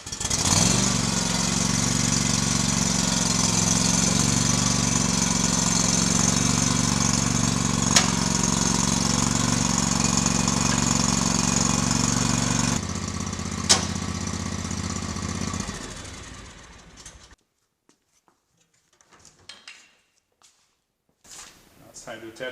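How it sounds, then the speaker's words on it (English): A John Deere X370 lawn tractor engine idles steadily with a constant low chug, then shuts off partway through, leaving near silence with a few faint knocks. "start up the tractor and lift the bracket a little bit"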